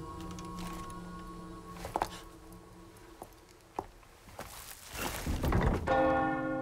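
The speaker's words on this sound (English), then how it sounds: "we did ring the bell for him after all" A bell rings in the video game Separate Ways: a resonant tolling tone hangs early on among scattered thuds and clunks, with a brighter ringing rise near the end, no voices present.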